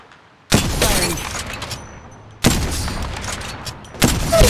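Gunfire in the mobile battle-royale shooter Apex Legends Mobile: three loud, sharp bursts of shots with a shattering, crackling edge, each decaying over roughly two seconds, with no voices.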